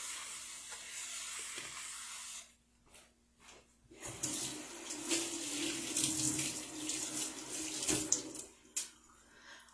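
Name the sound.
rinsing raw chicken under cold running tap water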